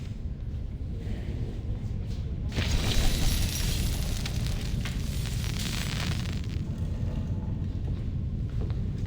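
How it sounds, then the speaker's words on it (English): Fireworks display in the video game Reverse 1999, a steady wash of crackling, booming bursts that swells louder after a couple of seconds and keeps rumbling on without pause. "See, I can even put on my fireworks show again."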